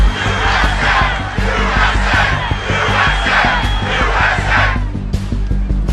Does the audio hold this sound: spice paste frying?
no